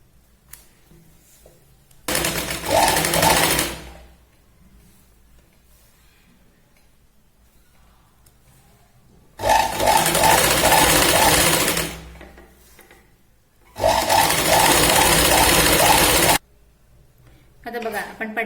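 An electric sewing machine runs in three loud, steady bursts of rapid whirring stitches along a blouse waist edge, with quiet pauses between runs and low speech in the background.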